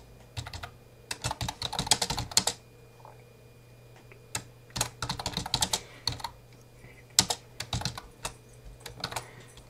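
Someone types on a computer keyboard in bursts of rapid key clicks separated by short pauses, close and fairly quiet over a faint steady hum, with no talking.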